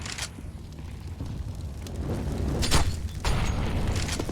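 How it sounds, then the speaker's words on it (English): Three grenades stacked together explode in a competitive esports video game match, producing a low rumbling boom with bursts of fiery crackle, moderately loud and without talk. "Wow, that triple nade stack"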